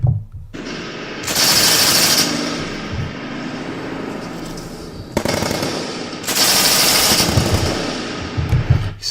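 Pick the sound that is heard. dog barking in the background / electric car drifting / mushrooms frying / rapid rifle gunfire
rapid rifle gunfire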